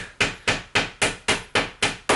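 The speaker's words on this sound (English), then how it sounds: "Finish hammering." Eight or so sharp hammer blows while wardrobes are being built, struck in an even, steady rhythm about four per second. They ring loud and close with no talking.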